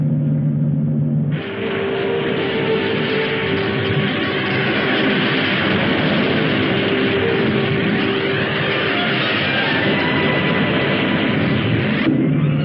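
Spacecraft engines roar in a 1961 sci-fi film, a loud, sustained rumbling drone that swells in after a moment and holds steady throughout, with no voices.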